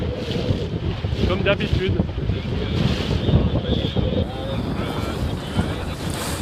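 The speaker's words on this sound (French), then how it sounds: "le vent a forcé par rapport à tout à l'heure" Strong wind buffets the microphone aboard a sailboat during a race, with water and waves rushing steadily around the hull; someone speaks briefly over the constant roar.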